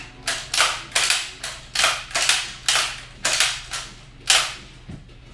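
A rifle is worked rapidly by hand, with a string of about eight sharp, loud mechanical clacks and bangs in quick, even succession, then a softer knock at the end.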